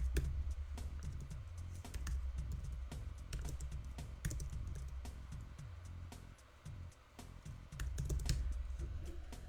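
Quiet, continuous tapping on a computer keyboard, with irregular bursts of keystrokes and brief pauses over a low background hum.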